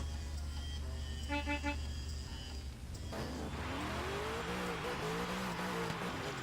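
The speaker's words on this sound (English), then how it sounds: "honk your horn when ready, Milk, and then you may go." A car horn sounds in a short burst of repeated toots at a drift event, then a drift car's engine revs up and climbs in pitch as it accelerates away, fairly loud, with no talking.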